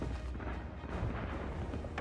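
Gunfire in a first-person shooter fortress raid rattles on continuously as dense, booming shots, loud and muffled as if coming through a wall, with no clear gaps between them.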